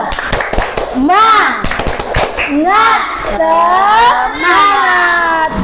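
A classroom of children performs the 'tepuk semangat' cheer: rhythmic bursts of hand clapping alternate with loud, sing-song chanted voices, all close and lively throughout.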